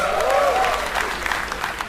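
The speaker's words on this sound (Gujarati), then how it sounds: "તાળીઓ થઈ જાય. Come on." Audience applause at a comedy talk show: a steady, dense burst of clapping that fills the whole moment and stays fairly loud, with a brief vocal tone rising over it near the start.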